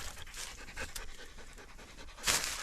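A hunting dog pants in the taiga in quick, steady breathy bursts close to the listener, a continuous rapid rhythm with a louder huff near the end.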